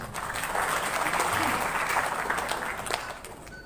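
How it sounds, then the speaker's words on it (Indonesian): An audience at a church organization's general assembly in Medan claps for a team, a broad sustained round of applause filling the hall, fairly loud and steady before tapering slightly at the end. "Tepuk tangan dulu buat SC."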